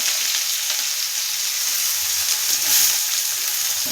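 Onions frying in a pan alongside chillies for poha make a loud, dense, even sizzle and hiss from start to finish, close up, with no voices.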